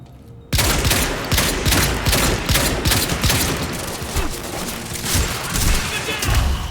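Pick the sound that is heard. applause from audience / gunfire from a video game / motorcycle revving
gunfire from a video game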